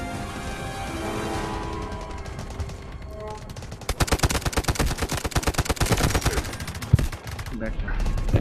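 Gunfire in the video game Delta Force, with rapid automatic bursts crackling in a dense, loud run through the middle and a single heavy shot near the end, over a layer of game ambience.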